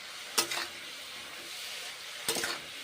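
Winter cabbage cooked as a vegetarian dish with green chillies and a little bitter gourd sizzles steadily in a pan, with two distinct scraping stirs standing out over the constant frying hiss.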